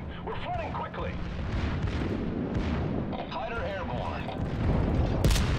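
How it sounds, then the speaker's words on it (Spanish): Big naval guns boom from the battleship Iowa as it fires at the player in the video game World of Warships. A low, rumbling barrage rolls on continuously under someone talking. "Está disparando a mí el Iowa"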